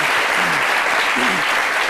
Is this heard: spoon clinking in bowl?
no